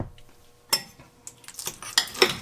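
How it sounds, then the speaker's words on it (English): Hand-mashed avocado guacamole being mixed in a bowl: soft irregular scrapes and clinks of a utensil against the bowl, close and fairly quiet, with no voices. "Go ahead and mix that up more."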